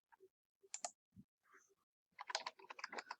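Typing on a computer keyboard while entering data into spreadsheet cells, a few scattered clicks followed by a quick close burst of keystrokes, quiet and without talk.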